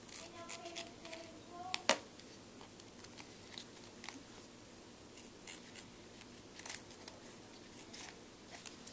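Scissors snip off excess duct tape on a homemade duct tape wallet, giving a few soft, close cutting and crinkling sounds early on, followed by faint scattered rustles.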